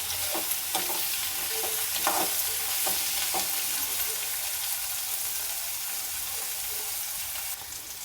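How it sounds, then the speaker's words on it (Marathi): Sliced bitter gourd sautéing in a pan until reddish, a constant close sizzle under a series of spatula scrapes and taps, busier in the first few seconds and then settling into a steady fry. "आता बघा कारल्याचा कलर ना थोडासा लालसर होतो तोपर्यंत आपल्याला ह्याला छानपैकी आताच परतून घ्यायचं आहे"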